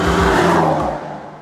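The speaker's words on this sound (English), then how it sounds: "The car just picks up so much more aggressively." A 2017 Honda Civic Type R pulls hard under acceleration, its engine note loud and close for a brief burst before dropping away as the revs fall.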